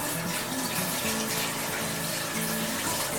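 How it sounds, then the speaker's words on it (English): Water runs steadily from a kitchen tap as an emptied sour cream container is rinsed out, a continuous close splashing flow with no one speaking. "Let's get this out the way. Wash it up real quick."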